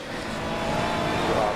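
A Ferrari 296 GT3 race car roars past in the rain at Spa in Assetto Corsa Competizione, a broad, steady engine and spray noise held close for a short moment.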